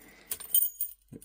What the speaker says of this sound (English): Get the keys to unlock it.